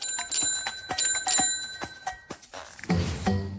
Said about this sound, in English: The vibrations make sound waves which move through the air, making the ringing sound we can hear.